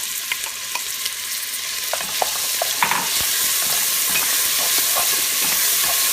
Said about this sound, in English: let's go ahead and add our onions to the oil here, and that's what you want to hear, is that sizzle.